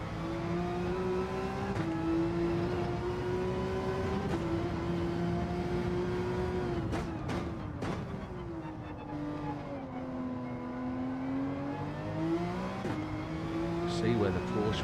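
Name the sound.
BMW overtaking Porsche in a racing video game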